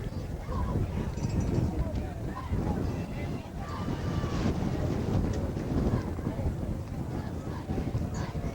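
Steady, heavy wind buffets the microphone throughout a football game broadcast in Canton, Pennsylvania, in 1994, a continuous low roar with gusty fluctuations.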